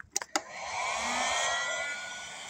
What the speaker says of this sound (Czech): Já jsem si tady připravil horkovzdušku 2 kW.